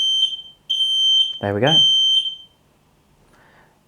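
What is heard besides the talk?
X-Sense FS31 smoke alarm test beeping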